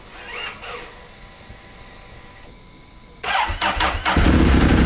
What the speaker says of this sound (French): la mission du jour, c'est 1. De démarrer la moto